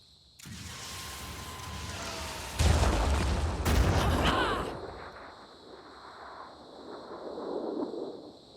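Heavy gunfire and blasts in the Phoenix Point strategy game, a dense burst of loud cracking booms with rumbling impacts over several seconds, then fading into a low crackle and distant tail.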